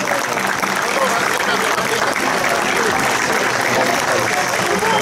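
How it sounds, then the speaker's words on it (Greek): An audience at an award ceremony after the final of a 3-on-3 tournament applauds steadily for the whole stretch. The clapping is thick and even in loudness, with voices mixed into the crowd noise. "Διπλό χειροκρότημα."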